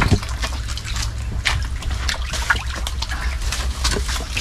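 Water being pumped out through an outlet pipe by a small electric pump of under 100 watts, a steady continuous trickling and splashing flow with low rumble, close by and alone.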